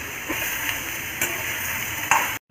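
Tomatoes being sautéed in a pan give a steady soft sizzle with a few light clinks of the stirring spoon against the pan, then the sound cuts off.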